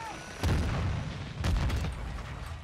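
Booming blasts in Modern Warfare 2 during a thrown-grenade moment, two heavy thumps about a second apart with rumbling tails and crackling gunfire between them.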